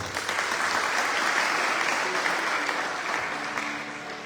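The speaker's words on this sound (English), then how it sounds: "Give her a lovely round of applause." An audience at a Hindu Navaratri religious gathering applauds after a Durga Chalisa recitation, a broad, sustained wash of clapping that holds steady and then slowly fades at the end.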